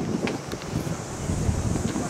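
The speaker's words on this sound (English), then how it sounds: "It's a bit windy up at top." Steady wind buffets the microphone on a rooftop in Rome, a broad rushing roar that stays loud and constant throughout, with no clear speech.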